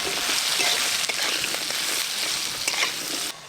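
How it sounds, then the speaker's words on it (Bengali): Potatoes and eggplant frying in hot mustard oil with turmeric and salt, a steady loud sizzle with faint crackles and a few stirring scrapes throughout, ending slightly quieter. "মোচার জন্য আলু আর বেগুন একসঙ্গে ভেজে নেব"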